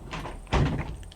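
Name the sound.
caravan sliding door being shut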